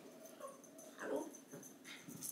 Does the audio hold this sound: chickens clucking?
no